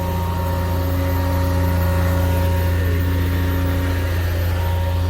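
A motor boat engine drones at a steady idle, loud and close, with a deep even hum and no change in pace across the few seconds.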